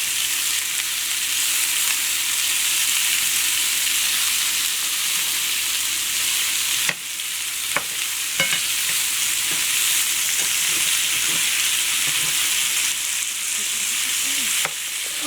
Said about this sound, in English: So you're going to want to stir that around.